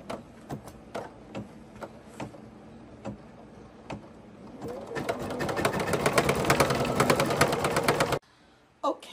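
An embroidery machine stitching a snowman design starts with a few spaced needle taps, then builds into a steady, loud, rapid mechanical stitching rhythm before stopping abruptly, with one last click after.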